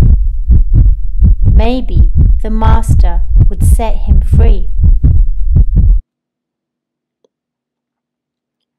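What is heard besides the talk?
fast heartbeat sound effect in read-aloud story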